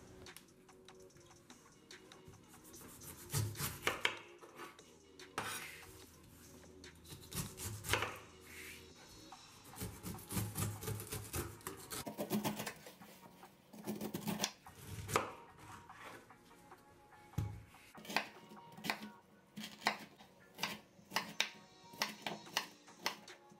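A knife chops cucumbers and other juice ingredients on a board, with quiet, close, irregular cutting strikes in bursts and faint rubbing between them.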